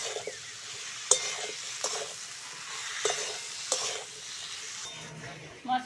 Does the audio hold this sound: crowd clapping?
no